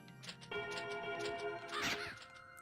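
Black Crow enemies cawing in Castlevania: Symphony of the Night, a harsh caw cutting through looping game music with steady ticking tones, fairly loud and without speech.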